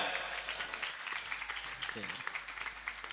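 An audience at an Islamic boarding school end-of-year ceremony applauds in a dense, steady wash of clapping lasting a few seconds, fairly close.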